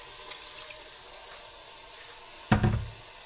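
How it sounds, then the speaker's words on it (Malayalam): Water is poured into a pan of liver roast, making a brief splash and gurgle near the end after a quiet stretch of low kitchen background. "കുറച്ച് വെള്ളം കൂടെ ഒന്ന് ഒഴിക്കാം,"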